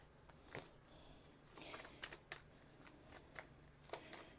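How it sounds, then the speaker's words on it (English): Tarot and zodiac cards handled and tossed down, giving soft scattered flicks and slaps at irregular intervals, faint and close with no talking. "I'm going to throw out some of these good old initial cards and zodiac cards"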